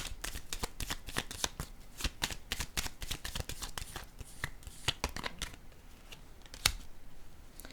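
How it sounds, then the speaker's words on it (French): Tarot cards handled and laid down on a table, a rapid run of crisp snaps and flicks that thins out toward the end, close and fairly quiet, with no talking. "je vais déposer une carte sur elle."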